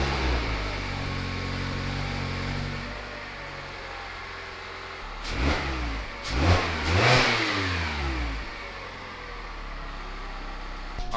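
Mazda ND2 Miata fitted with a Goodwin RoadsterSport race exhaust, idling low and steady, then revved in a few quick rising blips before settling back to idle, fairly quiet overall.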